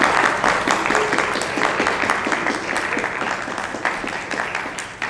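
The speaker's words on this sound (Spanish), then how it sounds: "Un fuerte aplauso, por favor." Audience applause at an award ceremony honoring women leaders in artistic and cultural production, sustained dense clapping from a crowd with some louder nearby claps, holding steady throughout.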